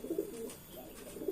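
Soft, low cooing from a slim-waisted pigeon, a few close murmuring coos repeating in a gentle rhythm, with no talk over them.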